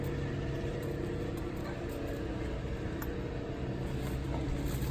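Steady distant drone of a leaf blower as staff clear campsite pads at a full-hookup RV campground, faint and continuous in the background with no voices.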